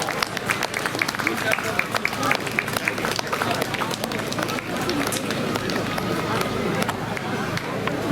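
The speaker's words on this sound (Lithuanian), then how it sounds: "Tad pasitikime ją audringais aplodismentais." Audience applause welcoming a singer onto the stage at an Užlieknė birthday celebration concert: dense, steady clapping from a crowd that continues at an even level throughout.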